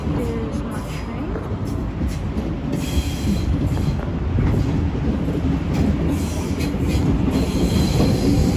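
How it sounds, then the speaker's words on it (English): A train rumbles into the platform at Milsons Point station, loud and close with a steady low roar and a thin high squeal of wheels on the rails, faint voices underneath. "Oh, my train's here."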